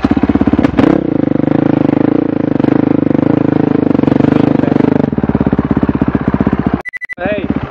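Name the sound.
motorcycle engine starting and revving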